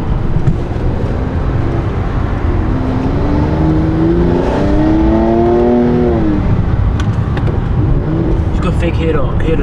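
Car engine revving hard with a rising and falling turbo spool whine, loud and close, running continuously under steady road and wind noise.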